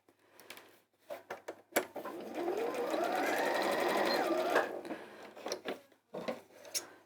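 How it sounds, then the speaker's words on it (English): A sewing machine hums in a steady mechanical whir for a few seconds, framed by short clicks and stitching bursts before and after. "why does a sewing machine sound different when you run out of thread?"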